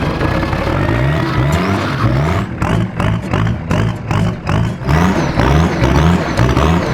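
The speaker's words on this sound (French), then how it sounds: "Ça mon gars c'est une vraie voiture," A loud Lamborghini engine revs repeatedly in a field, pitch climbing and falling in quick cycles, with a rough rumble and brief bursts like gear shifts.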